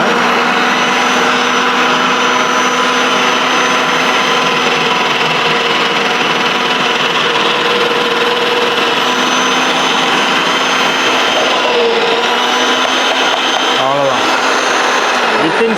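An electric kitchen chopper runs steadily while cutting carrot, giving a continuous, loud motor whine with a slight pitch dip near the end, as someone talks over it.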